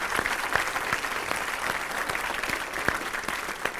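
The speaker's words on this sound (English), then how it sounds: "Give them all a round of applause." Steady applause from a seminar audience cheering fellow attendees who travelled from abroad, dense clapping holding evenly across the room with a few sharper nearby claps standing out.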